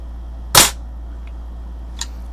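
A Daisy 120 pellet rifle fires a single sharp, loud crack at a target, followed by a faint click and a small distant tick of impact a moment later.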